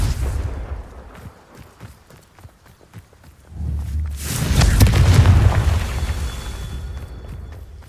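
A Confringo spell in Hogwarts Legacy fires off a loud, deep booming blast that rolls and rumbles for a few seconds, preceded by quick footstep-like thuds.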